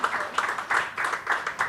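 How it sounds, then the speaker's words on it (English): Audience applause for Rakesh ji at a live talk event: a steady wash of clapping from many hands, moderately loud and continuous, with a few louder swells and no voices over it. "A round of applause for Rakesh ji"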